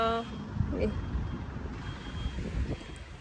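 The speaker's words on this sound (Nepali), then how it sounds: "हावा चलेछ" Outdoor wind on a hot, sunny early evening among pine trees, a steady low rumble buffeting the microphone throughout with no clear gusts.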